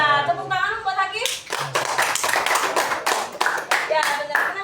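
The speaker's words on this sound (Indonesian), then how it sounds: "Nah, tepuk tangan buat Hakim" A maths class claps together for a student named Hakim: a burst of lively, continuous applause that follows a teacher's brief speech and carries on to the end.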